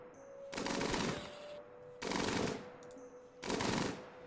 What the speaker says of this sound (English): Minigun those capybaras.